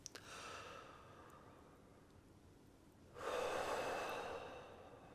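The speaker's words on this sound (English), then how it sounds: "Big breath in." One big, deep breath is drawn in during a beginner saxophone warm-up: a soft inhale, then a louder, fuller rush of air in the second half, with no talking.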